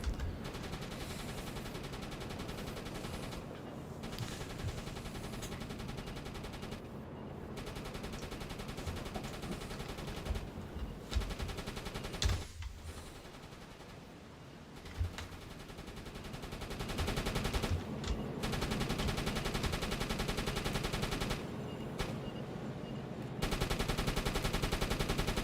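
Gunfire in the World War II submarine game UBOAT: bursts of machine-gun fire crackle over a constant loud roar, coming and going in waves across the whole stretch without pause.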